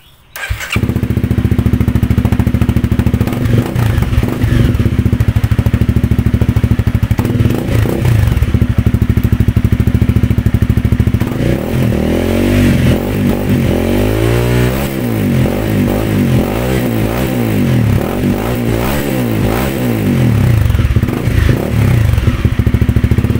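A motorcycle with a cut-open, rewelded exhaust pipe runs loud and close without pause, idling roughly before rising into a series of throaty revs in the second half.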